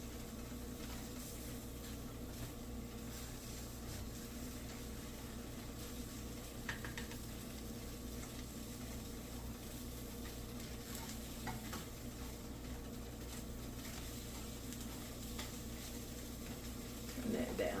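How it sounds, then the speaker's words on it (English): Ingredients dry sautéing in a pan for a homemade ramen, giving a steady low sizzle and hiss with occasional scraping stirs, constant and fairly quiet alongside a background hum. "Get a dry saute going on those."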